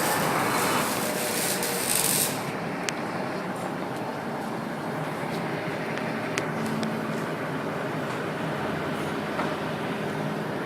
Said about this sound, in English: they're cutting the back bumper and raising it